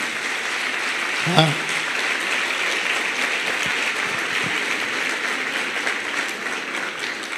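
A church congregation at an extraordinary founding assembly applauds in approval of a proposal, a steady dense wash of clapping filling the room throughout, with a brief voice or shout near the start.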